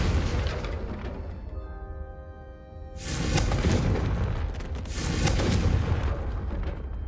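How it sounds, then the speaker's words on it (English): A Confringo fire spell in Hogwarts Legacy bursts twice, a few seconds apart. Each blast is a loud, roaring whoosh that swells and then fades over a constant, dense background rumble. "a Confringo cast travels a bit farther than that of a spell like Incendio"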